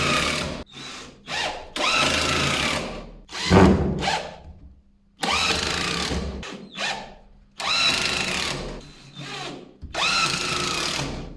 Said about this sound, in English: Drive some 60mm screws straight in.